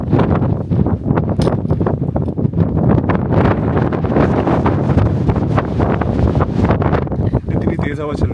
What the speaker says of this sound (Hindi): इतनी तेज हवा चल रही है ना यहाँ पर कि कंट्रोल करना मुश्किल हो गया अपने आप को।